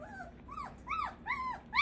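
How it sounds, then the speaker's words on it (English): Four-week-old Newfoundland puppies whimper in a series of short, rising-and-falling whines, close by and alone over a faint background hum. "Here's Miss Ivy's babies. And they'll be 4 weeks old tomorrow."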